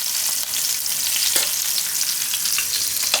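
Asafoetida dropped into hot oil, a loud continuous frying sizzle heard close, with light stirring scrapes and a single soft clink partway through.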